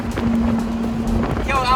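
A tuned Ferrari's engine exhaust drones steadily beneath wind buffeting, with a voice coming in briefly at the end.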